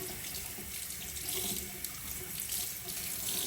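Running tap water pours steadily into a sink while a makeup brush is rinsed under the stream, a close, continuous splashing hiss with no voices.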